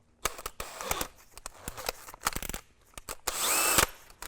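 Power drill with a step bit boring a hole for a waterproof cable gland, with short bursts of handling and clicks first, then a sustained whining run of the drill near the end.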